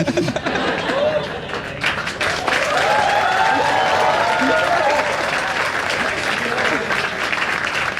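Audience applause on the India's Got Latent show, a full, continuous burst of clapping from a crowd, steady and fairly loud for the whole stretch, with voices mixed in.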